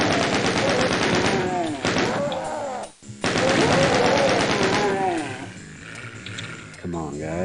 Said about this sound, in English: First, shoot some rockets here, then get the chain gun and fire away.